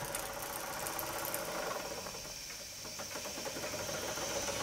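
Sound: model steam engine running

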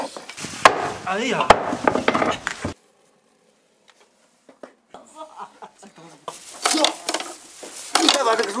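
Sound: chopping lamb ribs with a mallet

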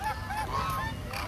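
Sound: ducks at zoo honking

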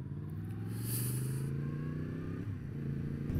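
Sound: Triumph Bonneville T120 motorcycle passing

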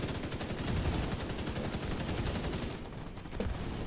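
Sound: gunfire in the video game The Division 2

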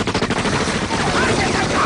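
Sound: machine gun fire in the video game Far Cry 5

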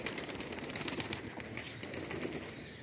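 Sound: pigeons flying

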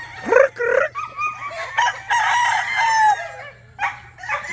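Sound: chickens clucking and crowing

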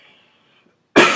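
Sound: cough

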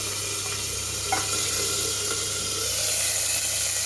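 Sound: ginger paste sizzling as it is added to hot oil

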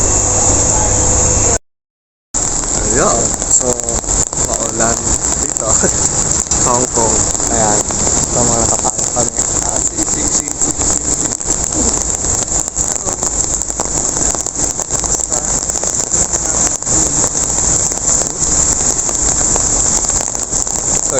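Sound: rain in Yau Ma Tei, Hong Kong

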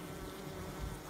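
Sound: buzzing bees in a stage play

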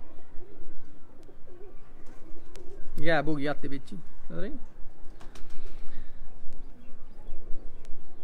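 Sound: pigeon cooing

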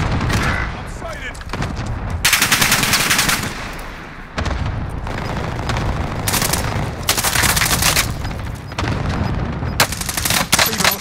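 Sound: gunfire in Call of Duty Warzone video game

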